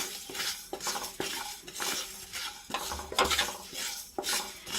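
Panch phoron seeds with fennel and dried red chillies are dry-roasted in a wok, a spatula scraping and rattling against the metal in repeated strokes, close and steady, with no speech.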